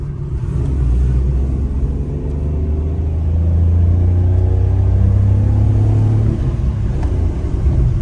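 A Citroën C1 small car engine revs up and holds a rising, throaty hum, close and loud, steady drone with no voices.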